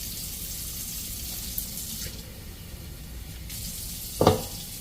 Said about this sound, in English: you can just add a little water